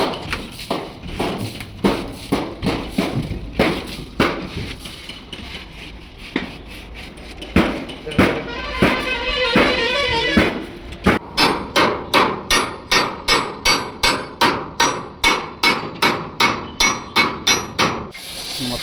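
A hammer beats sheet metal on a truck body in a workshop. Sharp metallic strikes land in irregular clusters at first, then settle into a steady, loud run of evenly spaced blows near the end.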